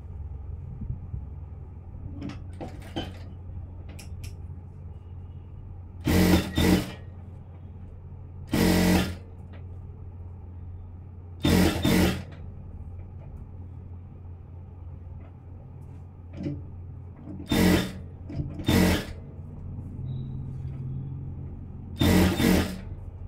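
A sewing machine stitches a blouse for aari work, running in several short bursts of about a second each, separated by pauses over a low steady hum.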